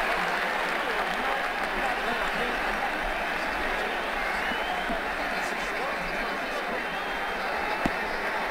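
A stadium crowd in the Ashes Cricket 2009 video game applauds steadily during an England v Australia Test match, a dense, even wash of clapping that lasts throughout at moderate volume.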